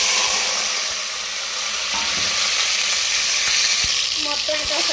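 Ginger, shallots, green chillies and onion paste dropped into hot oil for a mutton curry: a loud, continuous close sizzle with occasional spoon knocks and scrapes.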